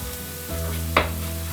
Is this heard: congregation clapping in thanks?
no